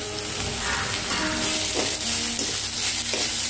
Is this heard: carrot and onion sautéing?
yes